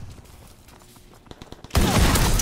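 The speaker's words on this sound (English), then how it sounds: "Holy crap, man, those mortars." Mortar blasts in Call of Duty WWII erupt as a sudden loud, dense roar of explosions after quieter battlefield rumble and scattered thuds, sustained and close.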